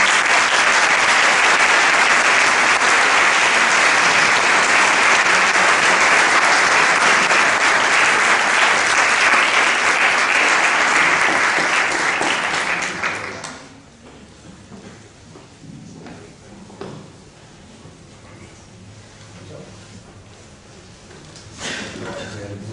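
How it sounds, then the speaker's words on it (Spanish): An audience at a lecture on marriage and family breaks into loud, dense sustained applause for about thirteen seconds, then it fades to sparse claps and quiet room noise. "Lo recibimos con un fuerte aplauso."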